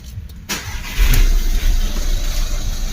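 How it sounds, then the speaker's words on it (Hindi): Skoda Rapid turbo car engine cranks and catches after a short quiet moment, then revs up loudly and settles into a steady, strong running note close by. "देखिए फ्रेंड्स अब हम कर रहे हैं गाड़ी को स्टार्ट।"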